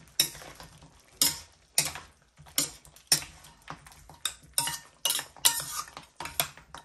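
A spoon stirs pork rib caldereta in a metal pot, making repeated scraping clinks in a steady rhythm, close and moderately loud, with no talking.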